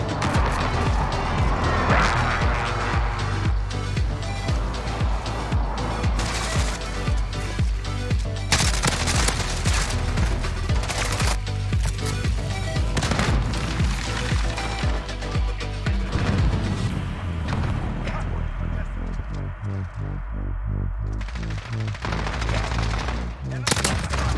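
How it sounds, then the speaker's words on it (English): Loud, rapid gunfire fills a first-person shooter match: repeated sharp pistol shots and bursts of other weapons crackle almost without pause, with crashes and impacts mixed in and brief speech beneath. "that pistol is fucking powerful"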